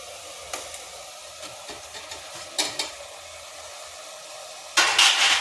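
Tomatoes, onions and chillies sautéing in a pan, a low, soft sizzle broken by scattered scrapes and stirs of a spoon and a louder burst of stirring near the end.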